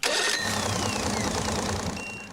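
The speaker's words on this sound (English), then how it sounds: "Start the engine." An Evinrude E-TEC outboard engine, supplied with water, runs steadily at a mid-pitched drone with faint whining tones sliding over it, close and fairly quiet, with no voices.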